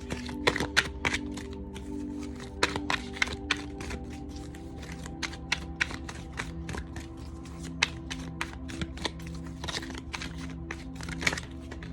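A deck of tarot cards is shuffled by hand in a series of crisp, close riffling taps and snaps, with a steady low hum behind them.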